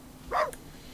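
A pet dog in The Sims 3 life-simulation game gives a single short, moderately loud bark against a faint background hum.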